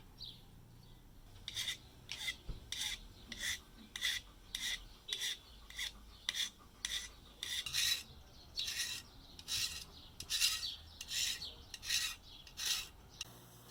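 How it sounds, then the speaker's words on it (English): A hand-made knife blade gets a rough grind along its edge, heard as about twenty rhythmic rasping strokes, evenly spaced and fairly quiet, with faint bird chirps in the background. "I put a little rough grind on it to give it a bit of a profile"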